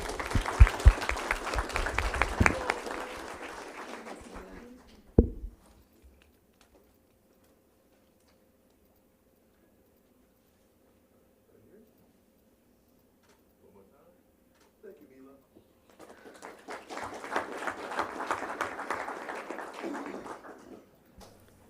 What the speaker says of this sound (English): Give a round of applause to Mila Thomas.